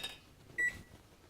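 An oven timer gives a single short, clear beep while being set, faint room noise around it.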